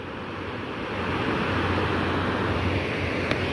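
River water from the Saraswati pours through an opened dam gate toward a bridge, a dense, continuous roar of rushing water that swells slightly after the first second and stays steady with no voices.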